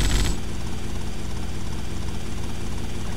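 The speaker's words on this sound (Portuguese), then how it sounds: "Esse helicóptero eu posso pousar aqui na água" A helicopter's rotor drones loudly and steadily in GTA Vice City, a close, continuous whirring chop with no voices over it, as it lands on water.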